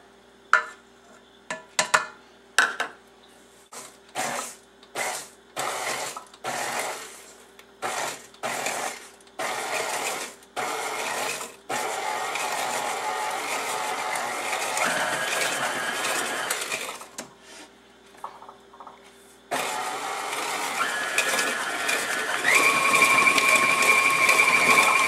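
A mixer beats cream cheese with half a cup of sugar for a white chocolate raspberry cheesecake, starting in short stop-start bursts, then running steadily, pausing briefly and picking up again, loud and close with no talking.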